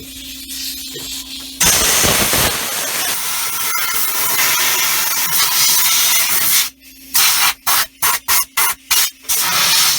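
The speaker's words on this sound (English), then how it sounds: "you might see stuff flying out from underneath the dash because I'm blowing air on this side towards that direction" Compressed air blasting under a car dashboard to clear out mouse droppings: a loud, steady hiss, then a run of short, sharp bursts near the end.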